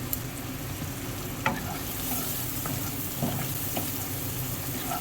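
Chicken curry masala with chopped tomato, turmeric, chili powder and salt sizzles steadily in a pan, with a few stirring scrapes and clinks over a continuous frying hiss.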